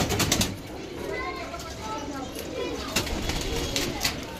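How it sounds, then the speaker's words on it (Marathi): Caged pigeons coo at a wholesale bird market, soft repeated coos and some wing flutters over a busy background, with people talking nearby. "बटल्या कबूतर पकडतोय"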